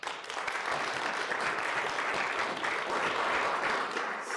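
Audience applause at a city planning commission meeting, sustained clapping from many people in a room, steady and fairly loud for about four seconds with no speech over it.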